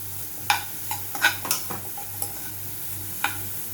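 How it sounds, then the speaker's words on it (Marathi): A spatula clinks and scrapes as a corn mixture is stirred and sautéed in a pan, producing a few sharp taps over a soft, steady sizzle with no talking. "हे 2-3 सेकंद व्यवस्थित असं सगळं परतवून घ्यायचं आहे"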